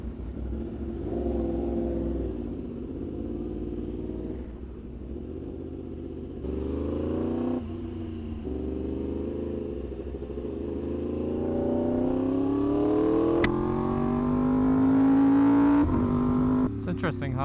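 A superbike, either a Yamaha R1M or an Aprilia RSV4, heard while riding: a low engine drone whose pitch climbs steadily as it accelerates, peaking before easing back. It is running warm on a mild day, and a voice is faintly present.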